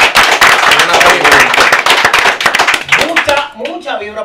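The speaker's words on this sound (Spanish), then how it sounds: "aplauso para los muchachones." A small studio crowd on a radio show claps for the performers in dense, close applause that fades after a few seconds, with voices heard over it.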